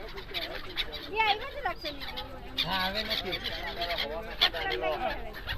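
Many birds call and honk in a busy chorus, overlapping with people talking nearby throughout, on a boat trip from Okha to Bet Dwarka, Gujarat.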